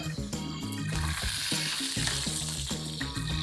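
A bangus (milkfish) steak fries in a hot pan with a steady, close crackling sizzle that runs unbroken throughout, accompanied by a low rhythmic patterned sound in the background.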